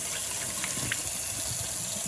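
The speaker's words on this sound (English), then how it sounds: "Start off by adding water. I'm gonna say 1/4 of the glass." Water poured into the glass base of a hookah, filling it about a quarter: a steady, close gushing splash that runs unbroken with no talking.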